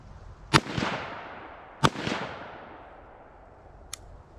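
Two sharp gunshots from a 5-inch 5.7x28 pistol build, about a second and a half apart, each crack followed by a brief echo, then a fainter metallic clack near the end.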